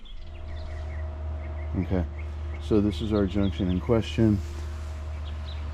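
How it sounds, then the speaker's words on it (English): A swimming pool pump runs while priming, giving a steady low hum throughout with someone talking over it. "That's the noise of my pool priming up."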